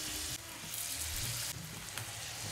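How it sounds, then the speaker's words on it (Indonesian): Vegetable fritters (bakwan) fry in hot oil, producing a steady, close crackling sizzle that runs throughout with slight surges as batter is added, and no talking. "kita langsung goreng saja."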